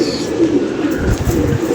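Pigeons, short-feathered barred birds kept by a fancier, coo in low repeated murmurs close by, with faint ambient noise and no talk.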